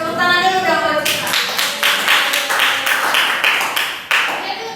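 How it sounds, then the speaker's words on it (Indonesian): A small classroom group claps for a student after she reads aloud, loud close-range handclaps in uneven bursts, preceded by a brief voice at the start. "Tepuk tangan dulu dong buat Citra."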